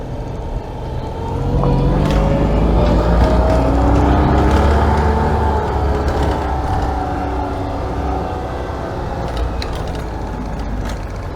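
A Citroen 2CV bumps along off-road with a steady, loud engine drone and low rumble, wind buffeting the open car throughout, with no one speaking.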